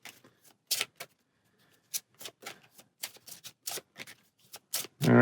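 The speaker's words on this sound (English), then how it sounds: "I guess it will help if I flip these over and shuffle them this way." Game cards for the Space Marine Adventures: Labyrinth of the Necrons board game being flipped and shuffled on a table, a series of sharp, close riffling bursts and snaps separated by brief quiet gaps.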